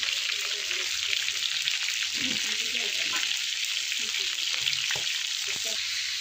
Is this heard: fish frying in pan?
yes